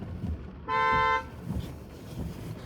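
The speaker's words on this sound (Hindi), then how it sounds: "हॉर्न मार" A single loud car horn blast lasting about half a second, steady and bright, standing out over low background rumble.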